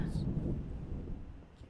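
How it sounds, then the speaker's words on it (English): Thunder rumbles low and heavy in a horror video game, a deep rolling swell that slowly fades out with no talking over it. "That is thunder."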